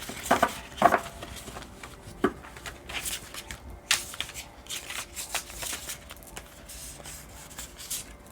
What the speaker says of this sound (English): I'm still practicing on this shuffling